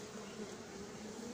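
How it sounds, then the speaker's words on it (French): Black honey bees buzz at an apiary, a faint, steady droning hum with no voices. "il y a des abeilles noires partout"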